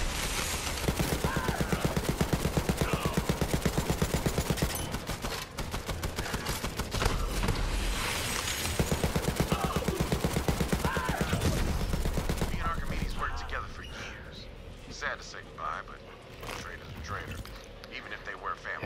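Gunfire from a Borderlands 3 boss fight: loud, dense, rapid bursts of weapon fire and impacts run almost continuously, thinning into scattered shots near the end, with game voices mixed in.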